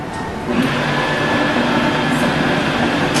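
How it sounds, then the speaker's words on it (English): A kitchen blender whirls food in one continuous, steady motor whine with a gritty churning texture, loud and close throughout with no talking. "give this one more whirl on my blender"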